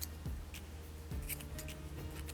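Scissors snip white crochet yarn at the end of a round on an afghan square, a few quiet close clicks and snips over faint background handling sounds.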